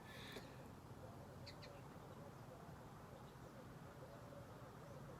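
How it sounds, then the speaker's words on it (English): Small birds chirp faintly in the distance outdoors in spring, a few short high calls early on over a steady, quiet background hiss. "The little birds are everywhere."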